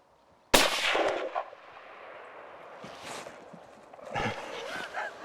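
A single sharp rifle shot cracks out during a roebuck hunt, loud and sudden after near-silence, its echo rolling away across open country, followed by faint voices and later rustling movement.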